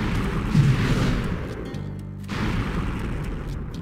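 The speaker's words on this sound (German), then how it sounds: "Natürlich dürfen die Explosionen nicht fehlen." Explosions in the video game Ty the Tasmanian Tiger: a deep booming blast followed by a rumbling tail and a second burst, loud and full over dense game noise.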